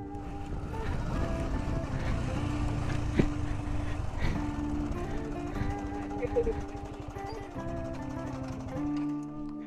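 A second-hand motorbike with its engine running at close range, revved with the throttle so the steady drone swells and dips across several blips.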